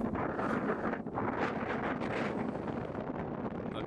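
Steady, heavy wind buffets the microphone at a high-altitude resort in Munnar at the foot of Meesapulimala. It is a loud, continuous roar throughout, with no voices.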